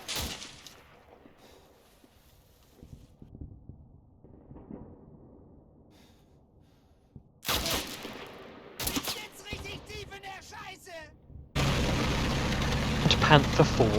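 Gunfire in the World War II game Combat Mission Kampfgruppe Peiper as scouts take fire from a small copse: faint scattered shots give way to loud bursts and rattling volleys late on, with voices underneath.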